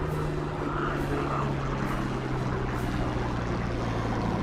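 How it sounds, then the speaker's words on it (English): A 1944 Hawker Hurricane fighter flying in a Remembrance display gives a loud, steady propeller-engine drone with a deep throbbing hum throughout. "Pulling the Hurricane around for a half Cuban."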